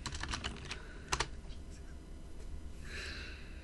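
Typing on a computer keyboard while installing packages on a Debian system, with quick bursts of key clicks early on, then a pause and a softer rustle, fairly close.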